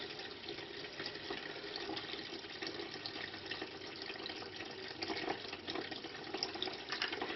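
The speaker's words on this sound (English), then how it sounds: "so I'm just going to add some more water to it." Water pours steadily into a bar soap and water mixture being made into dish soap, a continuous splashing flow that grows slightly fuller toward the end, nearby and alone.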